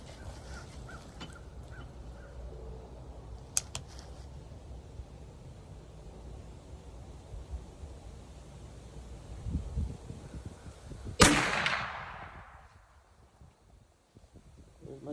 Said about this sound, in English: We don't line up, take a second shot.